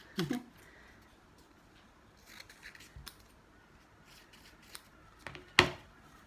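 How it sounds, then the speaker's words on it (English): Scissors snip strips of paper in a few brief, sharp cuts separated by quiet stretches, with faint rustling of paper in between. "just cut strips of paper easily and just cut strips and hang them down"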